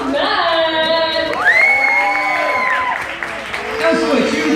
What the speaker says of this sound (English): Let's do a huge round of applause for our awesome warm-up host, Kim, and all our team mates up here on stage.